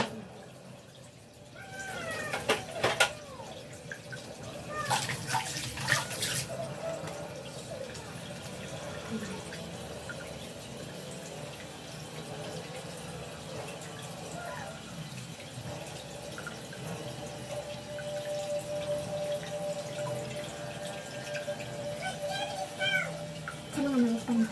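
Water runs and splashes as a face is rinsed at a tap, a continuous wet wash with scattered louder splashes, while a cat meows and a voice speaks at times.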